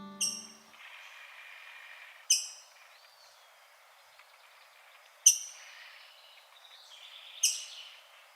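Grosbeak gives a sharp, squeaky call like a sneaker on a gym floor, repeated four times at irregular intervals, each a clear, bright note standing alone over a quiet background.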